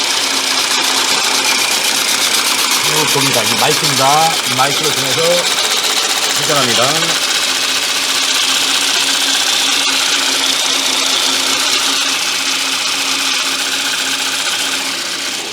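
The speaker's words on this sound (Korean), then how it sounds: "핸드 마이크를 이용해서 여러분께 엔진 소리를 들려드렸습니다" A Hyundai Equus car engine idles steadily right beside the microphone, a constant mechanical hum and tick, while someone talks over it at close range.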